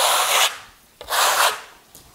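Steel trowel spreading Marmorino lime plaster across a wall in classic Bernini style, heard as two broad, loud scraping strokes, each about half a second, separated by a short pause with a small tap, with no talk.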